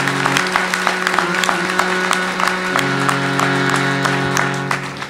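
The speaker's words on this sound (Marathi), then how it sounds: "जरा जोरदार टाळ्या वाजवा" Audience at a Guru Purnima gathering clapping hands together: fast, even, rhythmic claps from a crowd, loud and close, over sustained background tones for about five seconds.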